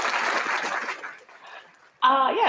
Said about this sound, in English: Let me give you another round of applause.